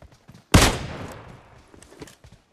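A single loud gunshot goes off in the mobile game PUBG Mobile, with a sharp blast and a decaying tail, and soft clicks and faint game noise around it.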